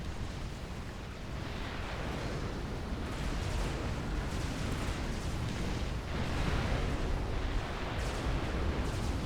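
Tactical missiles launching and detonating across central plateaus in a real-time strategy game, heard as a dense, steady wash of rumbling blasts and bursts that continues without a break, with no voices over it.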